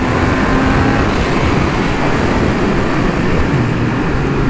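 A Triumph Speed Triple 1200 RR motorcycle engine under hard acceleration, heard from on board as a loud, continuous roar heavily mixed with rushing wind.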